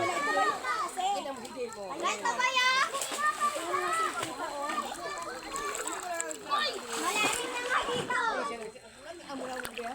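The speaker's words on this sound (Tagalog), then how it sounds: "Sarap ng paliligo ng mga bata. Ayan. Ilog siya." Children shout and chatter excitedly while water splashes around them outdoors, a lively, busy scene of kids playing in a river.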